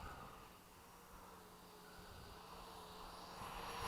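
An Arrows Hobby 64mm MiG-29 electric ducted-fan RC jet on a landing approach with its nose raised to slow down, giving a faint, steady distant whine and rush in outdoor air, with no voices.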